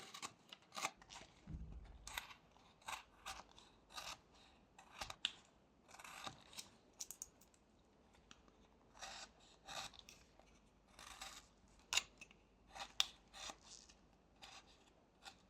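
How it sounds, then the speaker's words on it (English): A carving knife whittles a small wooden wizard figure, extending a stop cut and paring away wood: many short, close scraping and slicing strokes in an uneven rhythm, quiet and with no one talking. "I'm extending this stop cut all the way to the sides and then removing some of this wood."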